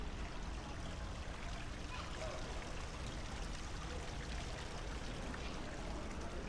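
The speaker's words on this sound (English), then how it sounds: "Lots of flowers and plants. Little waterfalls." Small waterfalls trickle and splash steadily in an indoor airport atrium filled with flowers and plants in Osaka, Japan, a constant broadband water wash with no talk over it.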